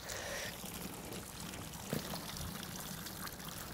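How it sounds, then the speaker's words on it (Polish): Tap water runs steadily while peony roots are washed in a garden, a continuous close pouring and splashing with one brief louder splash near the middle. "teraz weźmiemy wodę i odkręcimy wodę."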